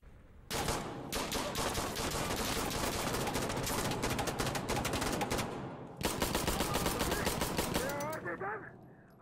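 Rapid automatic fire emptying a magazine in Insurgency: Sandstorm, loud, close and continuous, with a short pause before a second sustained burst. A voice can be heard underneath near the end.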